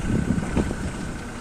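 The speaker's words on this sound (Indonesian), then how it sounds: "Ini perekaman di luar kendaraan, ada suara angin." Wind blowing outside a Toyota Fortuner VRZ, a steady broadband rush with low buffeting gusts close to the microphone, continuous throughout with no voices.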